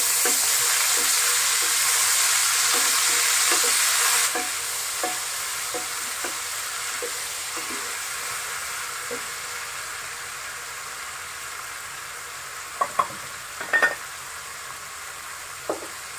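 Ginger garlic paste hits hot oil for a katla fish curry with winter vegetables, giving a loud initial sizzle that settles into a softer fry, punctuated by rhythmic spoon stirring and a few sharp knocks against the pan.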